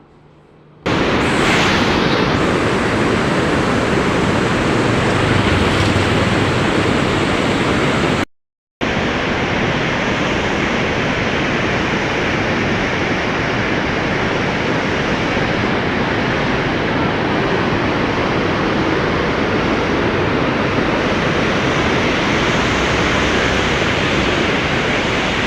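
Water pours through the fully opened gates of Aruvikkara dam near Thiruvananthapuram, Kerala, as a loud, close, unbroken roar of rushing water with one brief cut partway through.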